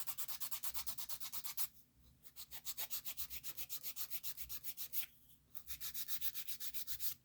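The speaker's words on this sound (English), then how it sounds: "I will pause it to go over it with my electric drill." A steady high-pitched electric nail drill whirs in rapid pulsing strokes, briefly stopping twice before resuming, with no voices.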